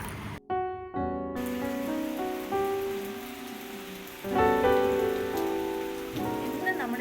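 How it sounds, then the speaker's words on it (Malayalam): Heavy rain pours steadily with a constant hiss, while sustained tonal sounds drift over it. "പുറത്തേക്ക് ഇറങ്ങാൻ പോലും പറ്റത്തില്ല അമ്മാതിരി മഴയാണ് കേട്ടോ"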